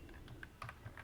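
A computer keyboard is typed on in a quick, quiet burst of close, uneven clicks.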